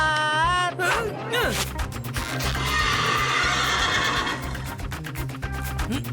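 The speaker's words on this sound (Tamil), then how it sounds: "சார் நான் குதிரையா மாறிட்டேன் சார்." A cartoon horse gives a loud, close whinny with a falling pitch, followed by busy galloping clip-clop and music-like sound effects.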